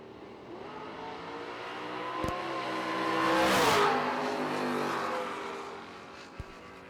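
Race cars, a Mustang and a Corvette Roadster, at a shootout, with an engine revving up and falling away. The tone swells into a loud peak mid-clip and then fades, while sharp clicks sound at the start and the end.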